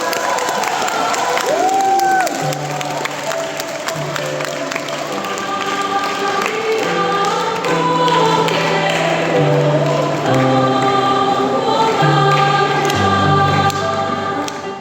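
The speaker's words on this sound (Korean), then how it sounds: "객석에서 큰 박수가 터져나옵니다." An audience at a Czech choir's concert applauds and cheers in steady, dense clapping as the choir sings an encore of Arirang, with sustained musical tones running through the crowd noise for the whole stretch.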